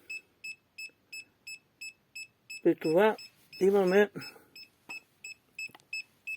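An R&D RD630 EMF meter sounds its field-strength alarm as a steady train of short, sharp beeps at a regular pace, continuing under a man's brief speech in the middle.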